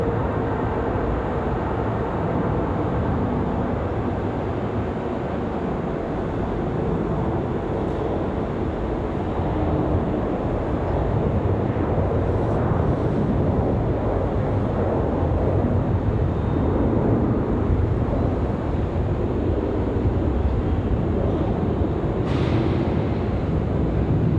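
A steady, broad rumble from an American Airlines A319 airliner lining up for departure at Raleigh Durham airport, continuous and fairly loud, with wind buffeting the microphone and no talking.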